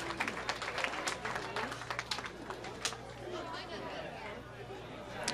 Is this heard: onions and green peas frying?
no